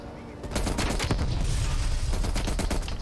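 A gun is hip-fired in Call of Duty: Black Ops Cold War, a dense burst of loud, rapid shots starting half a second in and running almost without a break to the end.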